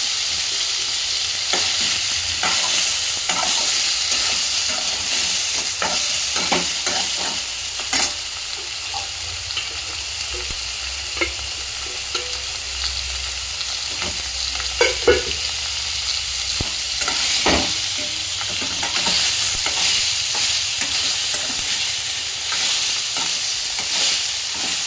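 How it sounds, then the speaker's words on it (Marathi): Paneer cubes frying in oil in a pan, a steady close sizzle broken by frequent crackles and occasional spatula stirs, continuous throughout with no talking. "हे पनीर भाजत आहे, तर चांगलं त्याला 4-5 मिनिट फ्राय होऊन द्यायचं."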